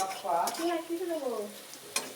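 Onion fries in a pan and is stirred with a utensil, giving a close, steady sizzle broken by scraping strokes and a sharp clank near the end. No one speaks.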